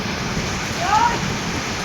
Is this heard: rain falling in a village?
yes